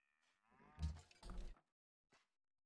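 Cattle moo in the Civilization 5 strategy game, two drawn-out lowing calls close together, followed by a short faint grunt, alone against silence.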